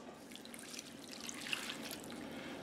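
A cup of water is poured over chicken and onions in a baking dish, a soft, close trickle and splash that runs quietly for a couple of seconds with no talk.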